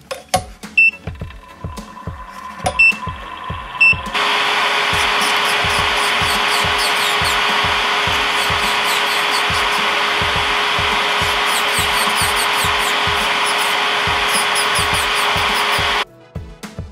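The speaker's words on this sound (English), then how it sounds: "I'm going to bring out my handy-dandy dust collector here, okay?" A nail dust collector switches on after a few seconds and runs with a loud, steady whir for about twelve seconds while press-on nails are filed down, then cuts off; rhythmic rasping strokes of the file are heard before, during and after.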